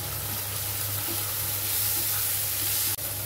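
Chopped tomato hitting hot oil in a frying pan for a soyabean curry, a steady hissing sizzle throughout with a small clunk near the end, no talk.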